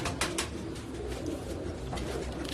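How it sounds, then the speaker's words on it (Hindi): Pigeons on a Karachi rooftop coo softly in a low, murmuring chorus that runs steadily throughout, with a few sharper rustles at the start and no voices. "भीड़ में चलने वाला ये कबूतर है और नस्ल दर नस्ल बना देने वाले कबूतर है"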